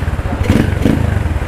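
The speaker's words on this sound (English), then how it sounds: "Saklar engine on." A KTM-style RXF 125 Freeride dirt bike engine starting up, with a pulsing idle beat and a brief rev, close by with no talking.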